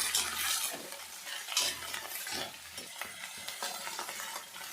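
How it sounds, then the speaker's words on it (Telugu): Fenugreek leaves fry in a pan with a steady soft sizzle, broken by close scraping strokes of a spoon stirring them around, with no voices. "ఇంకా ఈ మెంతాకు బాగా ఫ్రై కావాలండి"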